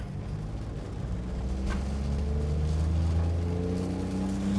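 A Volkswagen car pulls away in first gear in the rain, its engine a steady low rumble that rises gradually in pitch as it accelerates, heard from inside the cabin with a constant wash of road and rain noise.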